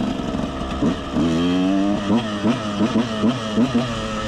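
A KTM 125 SX two-stroke motocross bike nearby, its engine blipped in a series of sharp revs that rise and fall, with one longer sustained rev near the start, loud and close with no talk.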